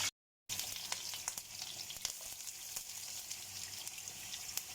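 Tilapia fries in hot oil on a stove, with a constant crackling sizzle broken by sharp splattering pops, after a brief silent gap near the start; close but fairly quiet, with no speech.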